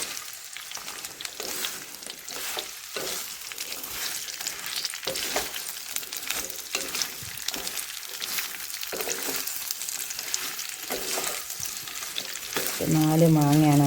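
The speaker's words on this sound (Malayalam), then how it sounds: "ഇനി നമുക്കിതൊന്ന് ഇളക്കി കൊടുക്കാം." Cut mango pieces stirred in hot oil, a loud continuous sizzle broken by repeated scraping strokes of the spoon, with a brief voice starting near the end.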